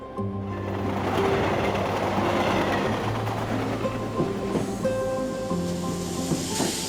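A train runs along rails with a continuous loud rumble and rhythmic clatter, heard from inside the carriage, with steady tonal hums beneath the noise.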